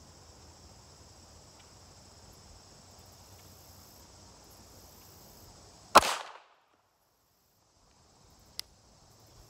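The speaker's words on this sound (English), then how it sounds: "It is an enjoyable little gun to shoot." A single sharp .380 pistol shot cracks at outdoor practice shooting, loud and close with a short decaying tail, set against a steady chorus of crickets.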